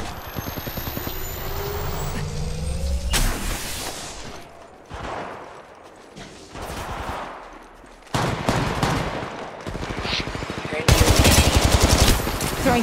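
Gunfire in Apex Legends Mobile on World's Edge: rapid bursts of automatic weapon fire and loud shots, in several dense volleys with brief pauses between, close and continuous throughout.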